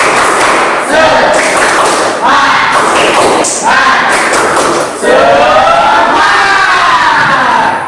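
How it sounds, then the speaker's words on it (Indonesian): A school class of students performs a rhythmic clapping chant together in four loud bursts, with group clapping and voices shouting in unison and short pauses between. "Kita harus tepuk semangat dulu."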